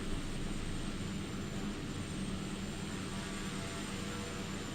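Steady drone of a light aircraft engine in the X-Plane 11 flight simulator, an Orbx paid add-on plane flying from Plymouth to Dunkeswell, holding an even, unbroken hum without any talk.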